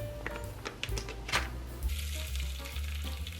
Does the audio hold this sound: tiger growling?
no